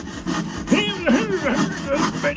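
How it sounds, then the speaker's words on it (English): A hand file scrapes back and forth across a metal edge in short rhythmic strokes, about six passes, close and fairly loud, with a faint voice briefly underneath. "Just going to file that edge off"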